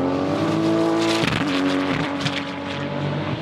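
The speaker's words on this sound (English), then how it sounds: "they described it as a dried peas in a can sound as his 911 went by" A Porsche 911 engine races past in a European forest rally, a loud continuous engine drone with a sharp shift in pitch partway through as the car goes by, with no voices.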